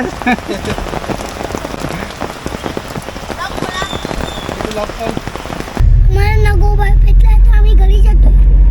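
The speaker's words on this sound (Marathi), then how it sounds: "पाऊस खूप पडतोय" Heavy monsoon downpour in Konkan drums steadily on a moving car, a dense loud hiss of rain on the roof and windows that swells even heavier in the final seconds, with road and engine noise underneath.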